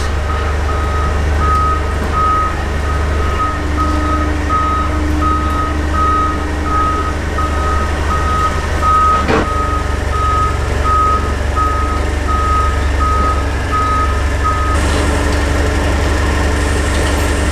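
A forklift backs up with a steady, regular electronic reversing beep repeating loudly over a low idling engine rumble in a workshop where a Porsche 356 body is being handled; a sharp clank lands midway.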